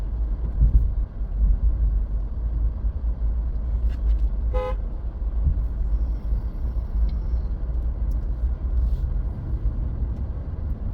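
A single short car horn toot sounds over a steady low rumble of a vehicle interior, brief and moderately loud.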